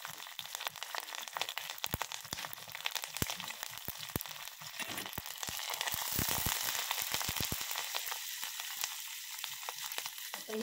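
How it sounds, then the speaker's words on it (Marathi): Mustard seeds, cumin, green chili, curry leaves and asafoetida fry in hot oil as a tempering for rava dhokla, a close, steady sizzle peppered with sharp pops and crackles that thickens midway, with no voices. "याची आपण फोडणी तयार करून घ्यायची आहे।"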